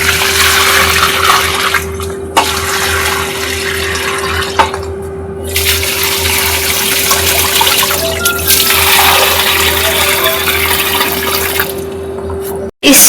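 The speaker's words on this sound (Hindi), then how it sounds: "मैं इसमें पानी डाल देती हूँ।" Water poured from a bucket into a cracked flowerpot makes a steady, loud splashing gush for over ten seconds with brief pauses, close to the microphone, with no talking.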